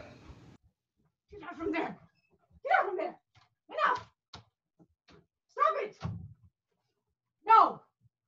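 A dog barks in a series of separate, close woofs spaced roughly a second apart, with short silences between them and a few soft thumps.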